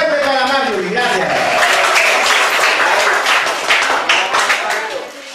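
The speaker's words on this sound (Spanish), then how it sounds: "Y un aplauso fuerte para Mario." Strong audience applause for a contestant at a televised school-kit giveaway, brisk dense clapping over a voice at the start, steady and close before tapering off at the end.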